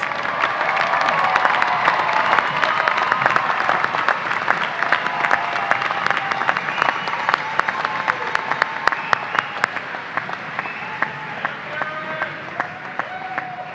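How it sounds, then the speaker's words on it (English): A commencement audience at a university ceremony gives baccalaureate graduates a round of applause, steady loud clapping from a large crowd that continues throughout, with some voices mixed in and sharper individual claps standing out near the end. "Let's give our baccalaureate students another round of applause"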